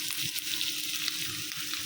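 Thick-cut onion pieces sizzle and crackle steadily in hot oil in a pan, a continuous close frying hiss while cooking a dried fish (shutki) dish, with no talking.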